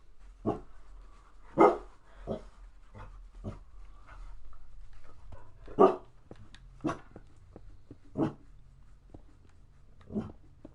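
A dog barks in another room in sharp single woofs spaced a second or two apart, muffled and somewhat distant, over a quiet background.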